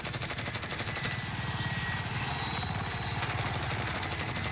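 Rapid automatic gunfire in Call of Duty Warzone, a dense stream of close, loud shots in a fast, even rhythm that carries through the whole stretch, briefly thinning midway, with no talk.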